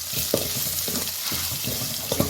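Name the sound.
frying pandan and curry leaves in a pan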